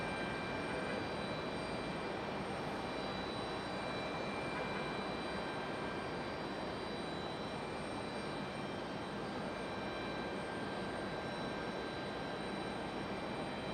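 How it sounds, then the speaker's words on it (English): A distant American Airlines Boeing 737-800 on approach into Raleigh-Durham in stormy weather, a steady, faint broadband jet roar that holds unchanged throughout. "Our next arrival you see there in the distance is American Airlines 533 That one is 737-800."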